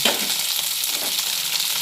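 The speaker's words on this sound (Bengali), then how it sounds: "এরপরে পেঁয়াজটা ভেজে নিচ্ছি" Chopped onion fries in hot oil with mustard seeds and dried chilli, giving a dense, continuous close sizzle with soft stirring underneath, loud and unbroken throughout, no talk.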